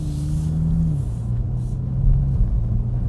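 A 2020 Toyota Supra Premium rumbles while driving, a deep, close engine drone that shifts pitch slightly as it moves, with no voices.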